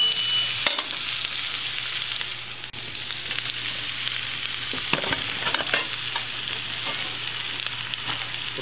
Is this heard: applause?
no